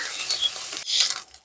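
Onion and ginger paste frying with nigella seeds in hot oil, a steady close sizzle with stirring scrapes, briefly dropping out then swelling again before fading.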